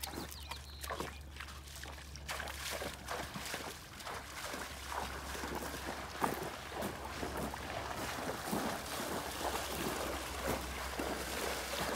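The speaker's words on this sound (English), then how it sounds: "Send your horse through the water." A horse wades through a water crossing on a trail obstacle course during an in-hand challenge, giving steady splashing and sloshing throughout, with a low constant hum and some wind noise underneath.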